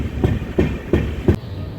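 Kandari Express 22898 running late over its rails near Kolaghat, wheels knocking in a steady clickety-clack with four evenly spaced loud thumps over a constant rumble, heard close from onboard.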